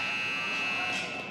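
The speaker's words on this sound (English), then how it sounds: "right as the buzzer sounds" A loud, steady electronic buzzer marks the end of a period in a scrimmage game, blaring continuously as a single sustained tone over faint crowd noise.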